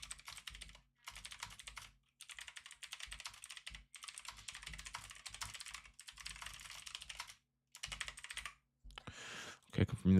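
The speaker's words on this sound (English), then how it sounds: "I gotta type as fast as possible to write the setup out real quick" Rapid keystrokes on a computer keyboard during live futures day trading, long dense runs of clicking broken by short pauses, with a louder handling noise at the very end.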